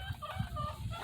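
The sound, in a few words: chickens clucking in the background of a garden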